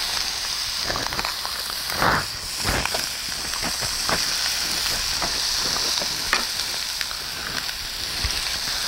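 Andouille sausage and bacon crisping in a pan, a steady bed of sizzle and crackle with soft stirring scrapes and a few sharper pops, close and continuous with no talking.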